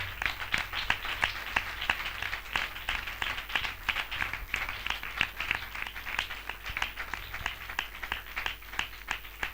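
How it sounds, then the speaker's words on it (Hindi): A gathering of believers at a spiritual revival meeting claps in a fairly distinct, somewhat rhythmic pattern, individual claps audible within the ongoing applause, moderately far away beneath a steady low hum. "हम जोरदार ताली से उनका स्वागत करें"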